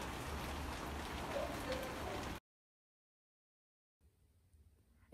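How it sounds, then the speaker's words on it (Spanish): Steady rain falls on a patio, heard close and even for a couple of seconds before it cuts off to silence, then faint background sound returns. "Está lloviendo, cierra el patio"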